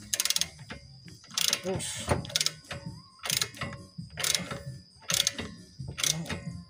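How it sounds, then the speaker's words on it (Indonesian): A ball joint puller is cranked with a ratchet to free a ball joint on a Honda BR-V: repeated bursts of ratcheting clicks with short pauses between strokes, close up, and a person speaks briefly. "kita kencangkan ini biar lepas ball jointnya ya"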